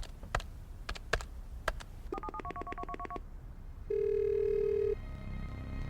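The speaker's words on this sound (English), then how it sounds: "picks up her phone and dials" A phone is picked up with a few sharp clicks, then a quick run of touch-tone dialing beeps, a steady dial-type tone, and a faint electronic hum, all close and with no talking.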